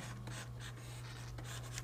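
A stylus scratches and strokes across a graphics tablet in quick, short rubbing passes, close and clear over a low steady hum.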